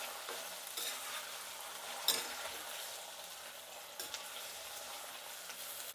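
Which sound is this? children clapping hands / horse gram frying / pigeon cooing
horse gram frying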